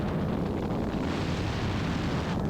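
Loud, steady engine roar of an ELA 07 gyrocopter throttling up, with a rumbling, wind-buffeted texture, holding a constant high throttle throughout with no pauses.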